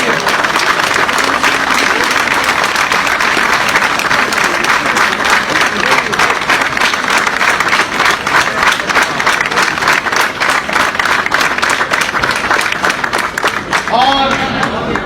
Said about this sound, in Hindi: इस पर आपकी तालियां हमें बताएंगी